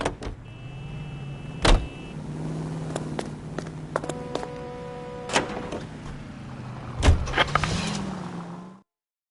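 A steady car engine in the video game L.A. Noire hums throughout, broken by scattered mechanical clicks and clunks like doors and power windows, with a louder thump near the end.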